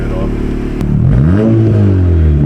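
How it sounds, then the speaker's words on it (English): A Honda Accord, 1.5 or 2.0, with an Axion industries 2-in-1 downpipe fitted, revs up loud and close, its engine note rising and sweeping upward into a strong climbing drone. "Let's give you a little bit more revs before I turn it"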